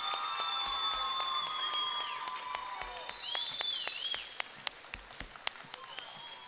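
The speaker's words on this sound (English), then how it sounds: "Let's give Team Napu'uwai a round of applause." Audience applause at an eighth-grade graduation at Hilo Intermediate, fairly faint and distant, with scattered claps and high whistle-like tones mixed in and a few sharper claps near the end.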